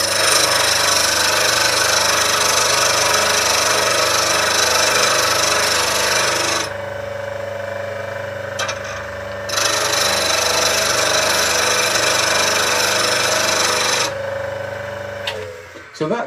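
A slow speed grinder sharpens a woodturning chisel rocked gently side to side, a loud, steady grinding hiss that briefly drops away twice as the tool lifts off, then resumes, near and continuous.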